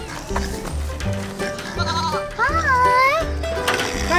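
A baby goat bleats at a farm-style animal area, its wavering cries rising loudly over a busy background of people talking and children's voices.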